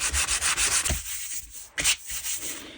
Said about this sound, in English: I'm going to just do a bit of light sanding on this now